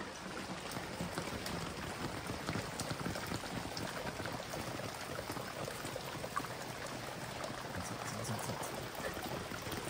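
Steady rain falls on a village courtyard in the Konkan countryside, a dense continuous patter and hiss of drops that holds even and unbroken throughout, with no voices.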